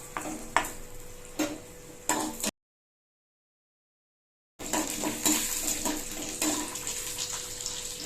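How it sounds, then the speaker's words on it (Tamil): Chana dal and urad dal frying in hot oil for savory Tamil rice-flour dumplings, a steady close sizzle with a few sharp clinks of a spoon against the pan, broken by a gap of silence midway. "எண்ணெய் சூடு ஏறிச்சு. கடலைப்பருப்பு உளுத்தம்பருப்பு சேர்த்துக்கலாம்."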